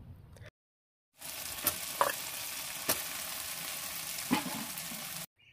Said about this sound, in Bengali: আমি পেঁয়াজের সঙ্গে গুগলিটাকে ভেজে নিলাম